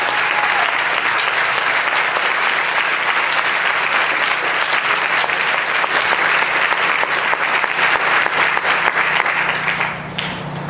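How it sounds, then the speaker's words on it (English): A luncheon audience at a two-year anniversary celebration gives a sustained round of applause, loud, dense clapping from many hands that stays even throughout and eases slightly at the very end. "Let's give them a round of applause"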